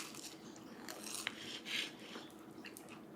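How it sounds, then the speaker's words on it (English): Crunchy cinnamon sugar toast being bitten and chewed, with a few soft, crisp crunches over a faint, steady background and no talking. "Some of the sugar is gonna still be crunchy. Maybe that's where the crunch comes from."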